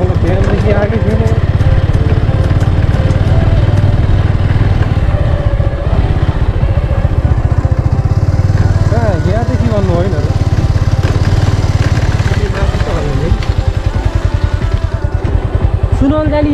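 Several motorcycles ride along the Butwal–Narayanghat road, engines droning and revving loudly and close throughout, with people talking over the traffic.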